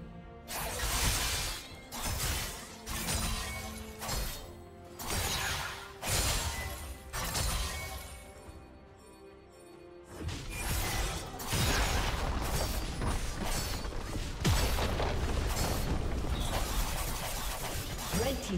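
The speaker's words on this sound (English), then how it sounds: "Red team's turret has been destroyed." Repeated crashing and shattering impacts with whooshes in League of Legends as a turret is destroyed, with a dense, loud run of hits in the second half over game effects.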